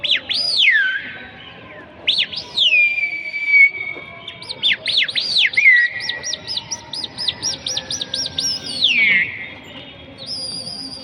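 Birds call from a rooftop pigeon loft, with repeated bright chirps and whistled notes in quick, uneven bursts, close and fairly loud, with no talk.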